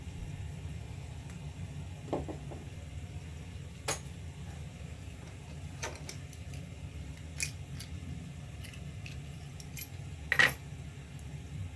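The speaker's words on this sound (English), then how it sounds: "I actually need to switch out the blade." Small metallic clicks, taps and jingles sound sparsely and close in a quiet room as the blade is swapped on an X-Acto craft knife, with one sharper clink near the end.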